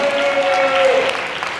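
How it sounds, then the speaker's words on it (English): Graduation ceremony crowd giving a round of applause for the graduates, a brief, fairly loud wash of clapping with a sustained tonal hum running underneath. "Let's give them a round of applause."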